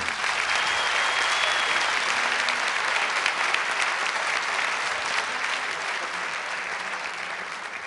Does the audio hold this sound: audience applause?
yes